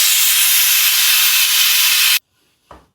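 Steam hisses loudly and steadily from a pressure cooker while biryani cooks, a broad continuous rush that cuts off abruptly, followed by a brief soft thump.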